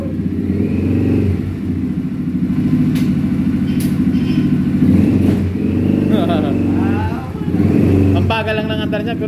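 An ATV 350 engine runs at a low, steady idle with a deep rumbling drone, then revs up briefly near the end, recorded up close.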